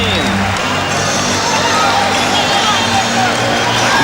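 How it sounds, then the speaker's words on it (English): A basketball arena crowd roars steadily behind the hometown Golden State Warriors during a 1991 playoff game against the Lakers, a loud continuous wash of cheering with a voice talking over it. "Now the crowd is behind the hometown Warriors"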